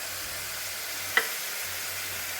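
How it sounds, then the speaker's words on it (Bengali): Onion frying in a pan with coriander-cumin, ginger and green chilli paste, a steady close sizzle throughout with one brief sharp tap of a utensil midway. "আর এখানে আদা আর কাঁচা লঙ্কা বাটা দিয়ে পুরো মশলাটাকে আমি এখন ভালো করে ভেজে নেব।"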